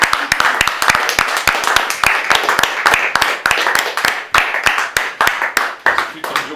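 A film crew claps together at the end of a shoot, a loud, close, steady round of applause with individual hand claps distinct, while people talk over it.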